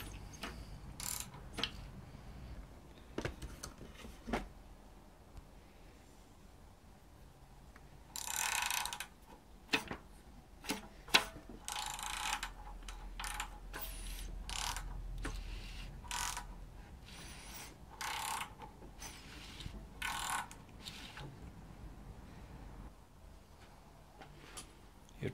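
Socket ratchet turning the crankshaft of a BMW M54 inline-six engine during timing chain work, giving scattered bursts of quick clicking, some close and sharp, with quieter mechanical handling noises between them.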